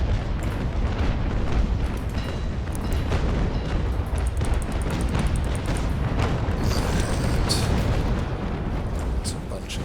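Ship cannons boom again and again in the naval combat game Naval Action, a dense, rumbling barrage of broadside shots and explosions that runs throughout, with someone talking over it.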